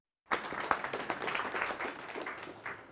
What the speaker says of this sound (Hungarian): Akkor tessék tapsod